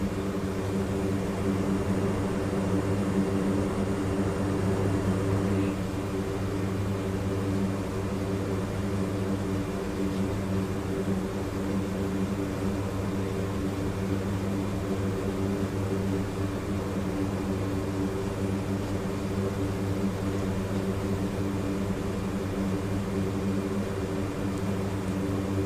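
Lockheed C-130J Hercules taxiing in DCS World, a steady droning hum of turboprop engines with stacked low tonal bands and broadband rush, unchanging and continuous throughout.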